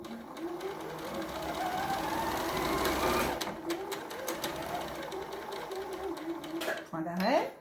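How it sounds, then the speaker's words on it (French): A sewing machine stitches the side seams of a dress or blouse, running as a steady, close, continuous whir for several seconds. It pauses briefly near the end, then starts again. "Donc là, j'assemble mes deux côtés. Je les tiens en bas. Je positionne mes tissus et j'y vais."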